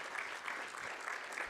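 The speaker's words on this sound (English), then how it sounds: "this speech doesn't deserve this round of applause. Let's make it big, louder." An audience at the Rwanda Internet Governance Forum claps steadily after a speech, a dense, sustained round of applause with no voices.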